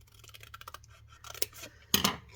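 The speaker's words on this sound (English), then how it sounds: "I'm going to cut this piece off" Scissors cutting through watercolour paper, with a series of short snips followed by a louder, crisper cut near the end, close up and with no talking.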